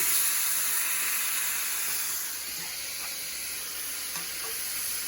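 Fajitas sizzling in a hot pan just after being flipped, a steady bright hiss and crackle with scattered pops, fairly close and continuous.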